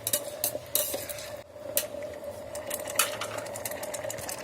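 A spoon scrapes and clinks against a pan as paneer curry is stirred, giving a run of bright metallic taps and scrapes over a steady hum of low kitchen background noise.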